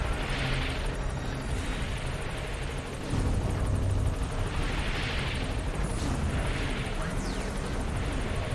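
A support helicopter touches down in the Metal Gear Solid V game, its steady rotor roar and engine whine filling the scene at close range with rhythmic swells, no voices over it.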